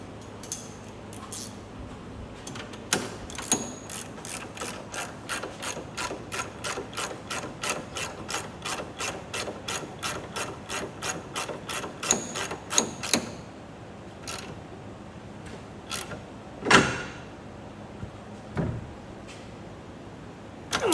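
A ratchet wrench tightens the inner tie rod end on a Mazda Miata spec race and autocross car, clicking in a fast, steady run of close, crisp pawl clicks for about thirteen seconds, followed by a few scattered clicks and knocks.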